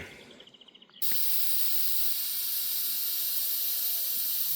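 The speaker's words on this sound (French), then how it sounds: "Et les bombes de peinture, c'est des aérosols." An aerosol spray paint can lets out a steady, close, continuous hiss of a few seconds, after a short rattle of the can being shaken.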